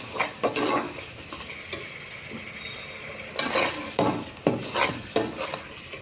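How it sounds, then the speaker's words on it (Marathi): Masala for Kolhapuri misal sautés in a pan with a soft, continuous sizzle broken by sharp, repeated scrapes and knocks of a spoon stirring against the metal, close and with no voices. "आणि छान असा परतून घ्यायचा आहे मसाला."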